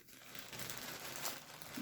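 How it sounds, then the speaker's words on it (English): A thick plastic bag crinkles and rustles in quick, faint, close handling for under two seconds, alone with no voices. "Take a thick plastic bag."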